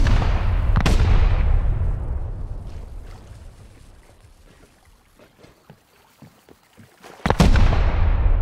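An explosive charge blows during a raid in the video game Rust: a sharp blast at the start rolls off into a long fading rumble, scattered small crackles follow, and a second loud boom hits near the end.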